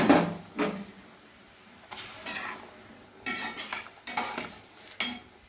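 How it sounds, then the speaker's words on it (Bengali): Katla fish pieces dropped into a boiling curry broth, heard as several close bursts of sizzling and splashing, mixed with metal utensil clinks and stirring against the pot. "এবারে ঝোল খুব ভালোভাবে ফুটে গেছে, মাছগুলো দিয়ে দিলাম।"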